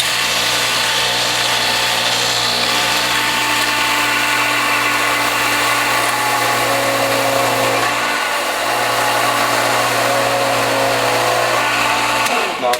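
A Norwalk juicer motor grinds spent pulp from a commercial juicer, a loud steady mechanical whir with a constant low hum, running continuously and nearly unchanged to the end.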